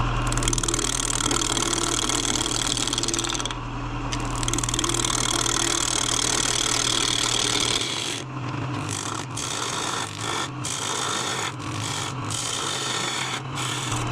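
A wood lathe spins a bowl blank at 1000 RPM while a tool cuts the curve and flattens the bottom, giving a steady close motor drone with rubbing, rasping scrapes that break into choppy bursts in the second half.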